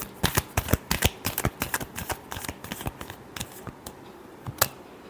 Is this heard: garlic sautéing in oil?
no